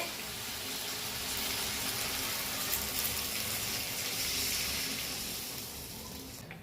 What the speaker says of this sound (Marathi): आता पाणी ओतून घेते